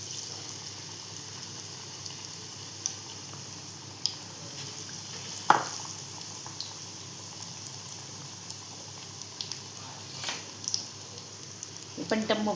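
Sweet potato snacks puffing up as they fry in hot oil, a steady soft sizzle and bubbling with occasional stirring clinks and small pops, while someone talks quietly nearby.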